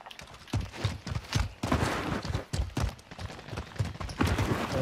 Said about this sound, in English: Another boy's getting shot.